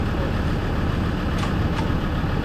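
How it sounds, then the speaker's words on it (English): A Jaguar XJ40 with its 4-litre straight-six engine runs steadily nearby, a dense, even rumble and whoosh with no change in pitch and no voices over it. "Even more noise now because the car's running"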